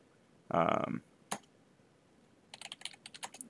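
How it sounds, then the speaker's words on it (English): A burst of sound opens the stretch, followed by a single click and then a quick run of close computer keyboard keystrokes while a command is typed on a Linux machine. "you would type systemctl"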